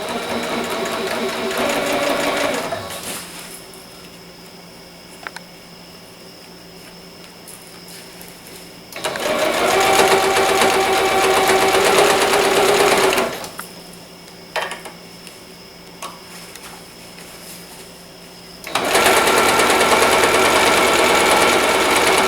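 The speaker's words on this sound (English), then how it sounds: "just do a small stitch right over that opening" A sewing machine stitches across the opening of a wet bag in three bursts of rapid mechanical whirring, separated by quiet pauses with a few small clicks, close and loud.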